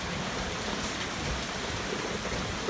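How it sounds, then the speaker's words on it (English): Heavy rain pours steadily outside, a dense, constant wash of hiss close to the listener with no talking. "Gonna watch the rain, Chuckies."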